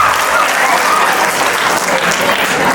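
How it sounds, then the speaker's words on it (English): Audience at a school farewell celebration breaking into loud, dense applause, steady clapping from many hands filling the short moment. "Everyone give a good round of applause"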